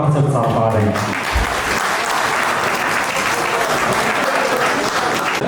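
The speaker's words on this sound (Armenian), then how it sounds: "եկեք ամեն մեկս մեզ համար, մեր ներկայության համար միակ բարձր ծափարենք" Applause from guests at an engagement and twentieth-anniversary celebration in Dilijan, a loud, dense, sustained clapping that fills the room from start to finish, with some voices mixed in early on.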